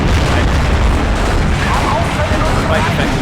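Off-screen artillery strike in the war game Steel Division 2 amid many tanks, heard as a loud, dense, continuous rumble of blasts and booms filling the whole moment.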